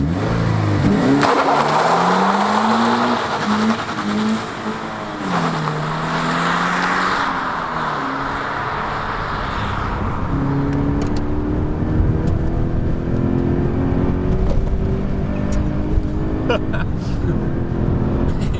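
A 2013 Toyota GT86 engine revs and climbs through the gears while driving, loud and close with a rising and falling drone, people talking over it from inside the car.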